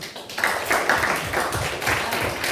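A classroom of students applauds for a classmate named Ruben, a dense, steady patter of many hands clapping together for a couple of seconds, fairly loud and close.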